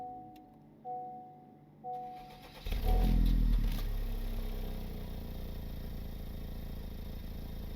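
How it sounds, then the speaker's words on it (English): A 2026 Honda Civic Type R turbo four-cylinder fires up after two soft chimes, with a sharp starter whir and a brief rev flare, then settles into a steady, subdued idle heard up close, with no talking. "that turbo 4-cylinder has come to life in a more subdued fashion"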